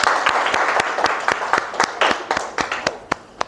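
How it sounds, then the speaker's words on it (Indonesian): Scattered clapping from a small group of students in a classroom during a teacher's assessment lesson, sharp irregular claps building into light applause, fairly close and with no talking over it. "tepuk tangan"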